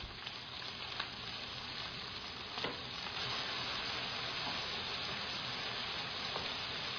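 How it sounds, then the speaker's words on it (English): Vegetables fry in ginger garlic paste in a pan, giving a steady, even sizzle close by with a few small pops and stirring clicks, no voices. "When your vegetables are frying in this ginger garlic paste, add salt"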